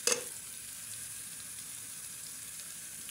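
Chicken browning in a frying pan for Mumbai-style biryani: a short clatter at the start, then a low, even sizzle holding steady and fairly faint.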